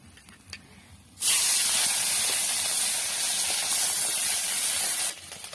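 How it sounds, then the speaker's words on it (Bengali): Fish hits hot oil in a pan with a sudden loud hissing sizzle that holds steady for about four seconds before dropping back to a quiet background. "মাছটা ভাজা বসিয়ে দিই।"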